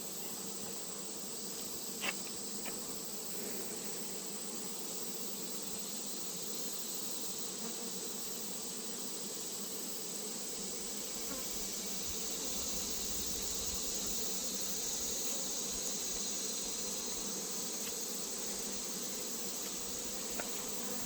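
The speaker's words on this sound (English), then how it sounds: "I'm going to go ahead and shake some of the bees off." Steady, dense buzzing of many honey bees close by, continuous throughout with a few faint clicks, no voices.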